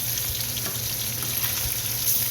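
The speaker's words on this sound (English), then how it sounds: "It's only been about 10 minutes and we're just stirring it around." Carne con chili colorado meat sizzles and fries steadily in a pan while being stirred, a close, continuous crackle with soft scraping.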